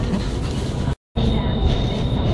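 Train pulling into a station, a steady loud rumble of wheels and carriage noise with a brief dropout, then continued rolling with a faint high whine.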